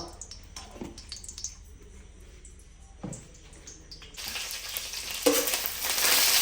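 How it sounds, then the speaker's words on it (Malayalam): Ingredients sautéing in ghee in a pan give a quiet sizzle at first, broken by a few scraping stir strokes, then swell into a louder, fuller crackling fry over the last two seconds. "ഇത് നമുക്ക് ഇതൊക്കെ ഒന്ന് വഴറ്റി റെഡി അപ്പം നമ്മൾ കുറച്ച് നെയ്യ് ഒഴിച്ചു കൊടുത്തിട്ടുണ്ട് കേട്ടോ"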